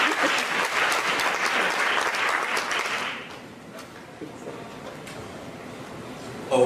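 Crowd applause at a hall of fame ceremony, loud and sustained for about three seconds before dropping to a faint murmur with scattered claps.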